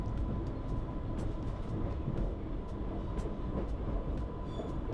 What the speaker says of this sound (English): As the train pulls out of Ryde Esplanade station